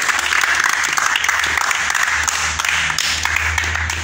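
An audience at an outdoor event in Al Hoceima breaks into sustained applause, a dense, loud wash of many hands clapping that continues steadily without a break.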